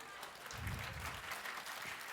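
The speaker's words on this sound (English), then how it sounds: "Let's give her a big round of applause" Audience applause welcoming physician Amy Myers to the stage for a talk on paleo, a fairly quiet, even patter of many hands heard from a distance, lasting about two seconds.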